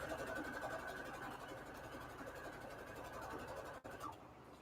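A sewing machine stitching fabric quilt strips right sides together with a quarter-inch seam, a fast steady mechanical whir running continuously before a brief stop and restart near the end.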